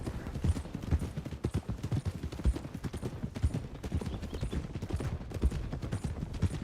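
Horse hooves clip-clop in a steady, continuous rhythm in the video game Red Dead Redemption 2, close and evenly paced throughout with no other sounds standing out.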